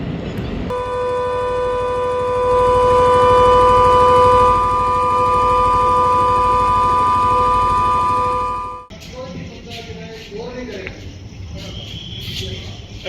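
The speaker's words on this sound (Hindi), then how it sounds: "उसमें आप सुनेंगे कि कैसे सायरन की आवाज बजती है" A loud, sustained air raid siren wails steadily for several seconds over a low rumble during a drone attack, then cuts off abruptly, leaving noisy background commotion.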